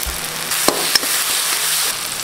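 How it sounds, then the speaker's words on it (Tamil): Tomato, onion and dry fish sautéing in a pan for a brinjal dry fish curry, giving a steady soft sizzle throughout with a couple of brief stir clicks, close and alone. "தக்காளி வந்து நல்லா வதங்கிடுச்சுங்க."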